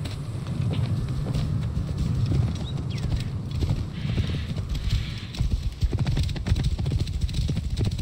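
Horse hooves clip-clop at a steady trot in Assassin's Creed Origins, close and continuous over a low rumble of movement, with occasional sharper hoof strikes and no talking.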